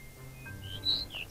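A few short, clear magpie-robin whistles played from a bird trap caller, a melodic songbird phrase, sound faintly against quiet background noise.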